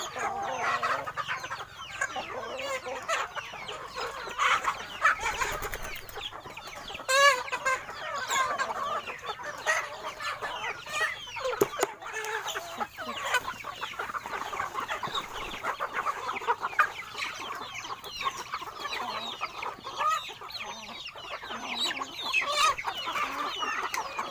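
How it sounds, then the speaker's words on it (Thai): A flock of young Thai native backyard chickens clucks steadily and densely, many overlapping calls close by with occasional louder squawks and a distant crow, continuous for the full stretch. "ไก่วัยรุ่น"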